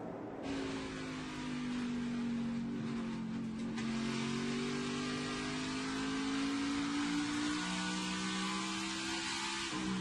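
NASCAR Xfinity Series race cars lapping Richmond Raceway during early-morning practice, a loud, continuous engine drone with rising and falling pitch as the cars run close by, with no voices.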